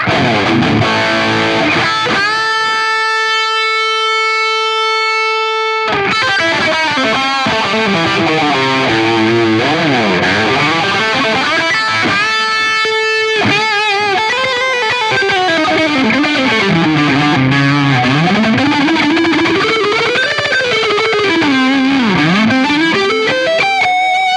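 Overdriven electric guitar rings through a Soldano 100 amp model on a Line 6 Helix Floor with Diana drive distortion, sustained notes bending and sliding with heavy grit, loud and close, played alone without any speech.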